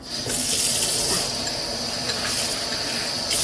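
Running tap water pours steadily over flattened rice (chira) being washed in a sink, a continuous close hiss and splash lasting the whole moment.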